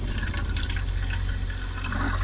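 Water running from a tap inside a campervan, a steady close trickling and filling sound held for a couple of seconds over a low background hum, with no voices.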